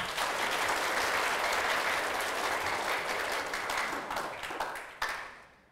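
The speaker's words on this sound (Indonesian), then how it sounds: "Kita kasih aplaus dulu sekali lagi" An audience at a health talk show in Lombok applauds steadily, loud and dense at first, then thinning out before a final burst of claps and a quick fade.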